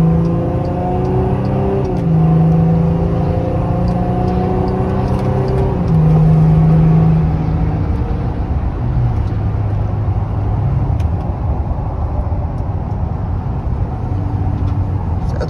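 Old pickup truck engine revving while driving, a loud, close drone rising and falling through several gear-like steps, with road and cabin noise underneath.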